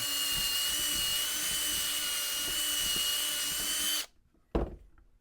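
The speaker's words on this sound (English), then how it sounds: "use a 1/8 drill bit and just make this a little bit bigger" A power drill with a 1/8 inch bit whines steadily at high speed for about four seconds, enlarging a pin hole in a hickory golf club shaft, then stops abruptly, followed by a single dull knock.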